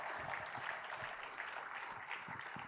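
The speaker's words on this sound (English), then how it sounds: "Can we have a huge round of applause, please?" An audience at a financial markets quiz felicitation ceremony gives steady, even applause, a continuous wash of clapping heard at a moderate distance and fairly quiet.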